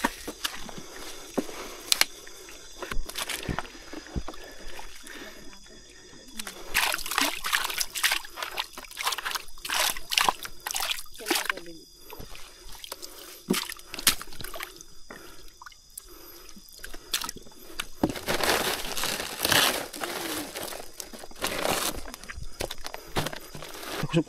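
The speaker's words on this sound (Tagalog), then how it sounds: "Ay maglalakad tayo ngayon mga lods kasi napakababa ng tubig." Footsteps wading through shallow, very low water near a boat, with irregular splashes, drips and sloshing close by, fairly quiet and uneven, with occasional faint voices.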